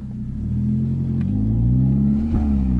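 A Renault Sandero RS with a 150 hp engine accelerating hard during a 0-100 test, the engine note climbing steadily and loudly with a brief dip at a gear change before rising again, heard from inside the car.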